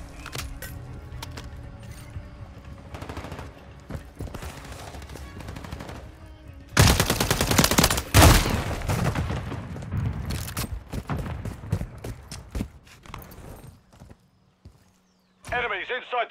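Bursts of automatic gunfire from Call of Duty: Modern Warfare 3 on PS5, in a Moshpit match on MW2 maps, come in dense rattling volleys that swell to a loud peak midway, over game sounds and a talking voice.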